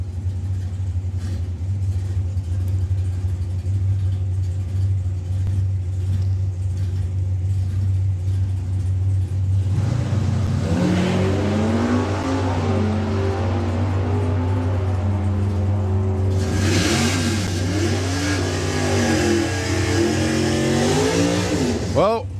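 Dodge Charger with a wheelie bar and a green Jaguar E-Type at a drag race, idling engines droning before a loud launch with rising revs and gear changes, then a second harsh surge, under a commentator's voice.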